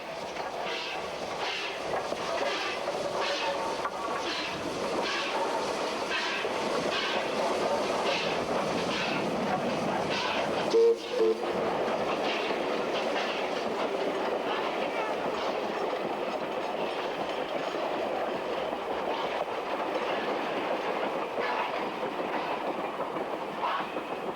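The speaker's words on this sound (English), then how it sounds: "As the train heads back downhill" A steam train rolls steadily downhill with a continuous rumble and faint rhythmic clacking of wheels, sustained and fairly close throughout.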